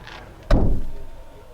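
The original metal door of a 1976 Chevy van shuts with a single solid thud up close, followed by a brief fading rattle.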